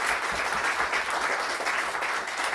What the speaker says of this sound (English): Don't give them too big a round of applause.